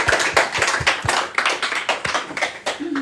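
A church congregation claps together in a steady, loud rhythm of sharp hand claps, filling the room with close, lively applause and no talking over it.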